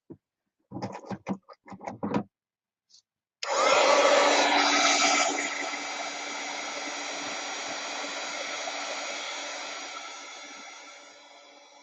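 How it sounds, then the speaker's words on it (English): A heat tool blows hot air onto art journal pages, a steady loud whooshing roar that starts abruptly after a few short scratchy handling noises and runs continuously to the end. "I'm going to use my heat tool."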